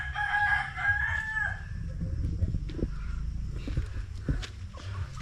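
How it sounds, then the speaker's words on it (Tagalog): Chickens at a farm feeding area: a rooster crows near the start, followed by scattered soft clucks and footsteps nearby. "Dito tayo nagpapakain sa ating mga manok"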